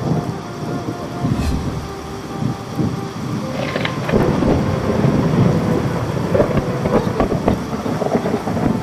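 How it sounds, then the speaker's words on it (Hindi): Steady heavy rain roars throughout, with low rumbling thunder rolling beneath it and growing stronger in the second half. "और तभी अचानक बड़ी जोर से बारिश शुरू हुई"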